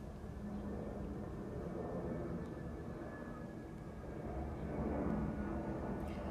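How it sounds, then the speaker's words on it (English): An airplane drones steadily overhead, a faint, continuous low rumble that swells slightly toward the end and fades without a break. "Hello, airplane."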